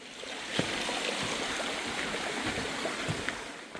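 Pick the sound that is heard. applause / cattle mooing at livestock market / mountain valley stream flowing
mountain valley stream flowing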